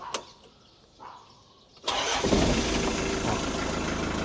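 A starter cranks briefly, then a Mitsubishi L200 pickup engine catches and settles into a loud, steady idle that continues to the end.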